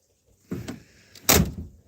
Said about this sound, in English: You can see when I open the door and shut the door, it scratches right there.